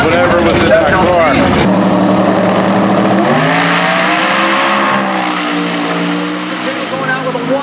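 Drag racing car making a full pass, a loud roaring engine that sweeps up in pitch before dropping into a steady high drone that fades as it moves away.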